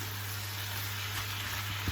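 Chopped onions frying in a pan for chilli con carne give a steady, hissing sizzle that holds constant throughout, with a faint low hum beneath it.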